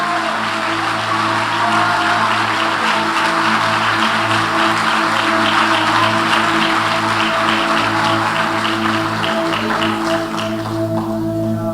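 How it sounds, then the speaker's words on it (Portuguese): A church congregation applauds in a dense, steady wash of clapping that lasts throughout, with sustained music droning underneath. "Dê um aplauso ao Espírito Santo."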